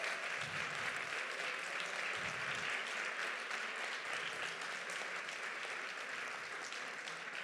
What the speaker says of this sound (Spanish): os voy a pedir también algunos aplausos en primer lugar para todo el equipo de La Trópola Produce, Fernando, Laura, Aidel